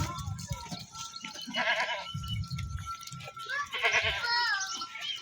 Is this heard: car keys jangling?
no